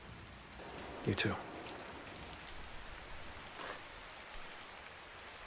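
Steady rain falls outside at night, a soft even hiss throughout, with a brief spoken line near the start.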